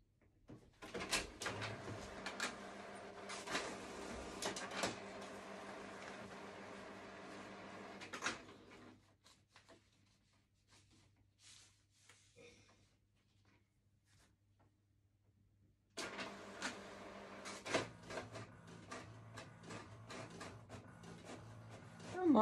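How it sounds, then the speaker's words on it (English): A printer printing a fabric quilt label, giving quick bursts of clicking and feeding mechanism noise, a pause of near quiet in the middle, then a second run of clattering printing, close and moderately loud with no talk. "And now I'm going to print it."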